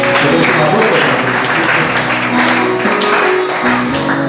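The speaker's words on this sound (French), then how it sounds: "Applaudissez pour le Seigneur." A church congregation clapping together in a steady, loud, continuous wash of applause that fills the space, with singing or voices mixed underneath.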